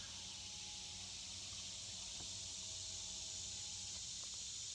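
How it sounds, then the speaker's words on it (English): A constant high-pitched buzzing drone of cicadas fills the background, faint and steady, with a few soft low noises beneath. "My cicadas are here."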